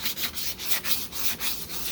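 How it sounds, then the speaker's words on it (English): Rhythmic back-and-forth sanding strokes with sandpaper, a steady dry scratchy rasp repeating roughly every quarter second, close up with no talking. "and then you just start sanding"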